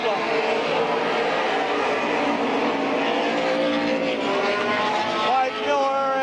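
Race cars roar side by side for the lead down the backstretch at Midvale Speedway, engines droning loud and continuous with pitch sweeps as they pass, a commentator's voice running over the top.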